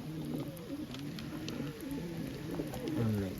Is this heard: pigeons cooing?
yes